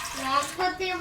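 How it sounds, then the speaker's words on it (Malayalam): Water pours into a cooking pot to boil pasta, a splashing, gurgling stream with short pauses, close by and moderately loud under a speaking voice. "വെള്ളം ആഡ് ചെയ്യുന്നു"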